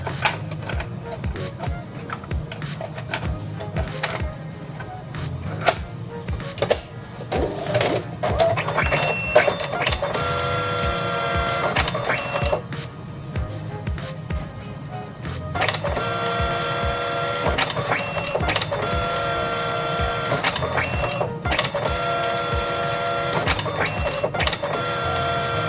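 A Zebra ZXP Series 3 card printer runs through a print job after a mechanical error, giving steady whirring with repeated clicks and tonal motor whines in several passes, close and fairly loud, with brief talk over it.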